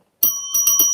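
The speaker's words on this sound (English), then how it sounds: "almost forgot to ring Laurie's sale bell" A small handheld sale bell struck in a quick series of bright, ringing dings, close and loud after a moment of silence.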